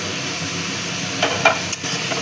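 Chopped green chili fries with onion in a pan for poha pulao, a soft steady sizzle broken near the end by a few close scraping stirs against the pan.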